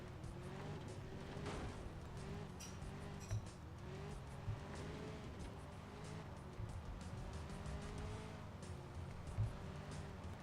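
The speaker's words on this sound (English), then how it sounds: "Oh, so this is like a slot car thing?" Slot car racing in a video game, a steady whining car motor with rising and falling pitch as the car speeds and brakes, quiet and continuous with small clicks throughout.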